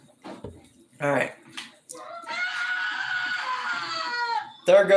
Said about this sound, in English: There goes that freaking, What's going on? like, horror movie scream right there.